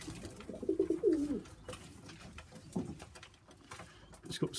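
Sheffield Tippler pigeon giving a few soft throaty coos, faint and close, with light shuffling and small taps between calls and no talking.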